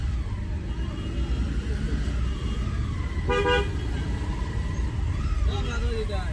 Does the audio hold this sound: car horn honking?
yes